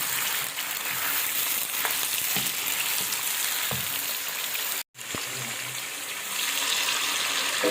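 Mutton browning in a karahi, a steady, close sizzle and crackle of frying meat with occasional stirring scrapes and one very brief break.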